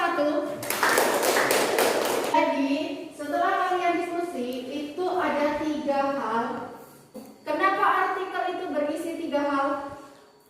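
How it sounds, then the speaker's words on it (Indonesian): A classroom of students claps briefly for a student group in a sociology class, a quick burst of hand claps near the start before a voice speaks over the quiet room. "Kita kasih aplaus untuk kelompok"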